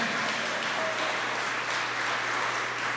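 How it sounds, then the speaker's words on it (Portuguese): A church congregation claps and applauds at a conference service, a steady, dense wash of hands sustained throughout at a moderate distance, with no voice over it. "Aplauda Jesus, irmão."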